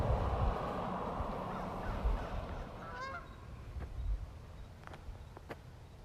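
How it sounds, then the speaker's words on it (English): Geese honk in the background outdoors, a few distant calls rising over a steady traffic rumble and fading, with faint cawing crow-like calls following later. "I hear geese back there."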